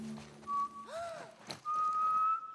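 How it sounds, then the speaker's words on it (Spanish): A young girl character in The Last of Us Part 1 video game whistles a few short, clear tones with rising and falling slides, phrases broken by pauses, close and fairly quiet. "Está silbando."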